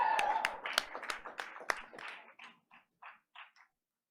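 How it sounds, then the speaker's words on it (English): A small school board meeting audience claps for four school principals, a brisk burst of hand claps that thins into a few scattered, fading claps within a few seconds. "Audience, please give another round of applause for all 4 principals."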